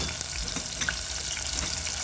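Chopped onions hit hot oil and settle into an even, hissing sizzle with light bubbling, close up and steady through the short stretch, no talking.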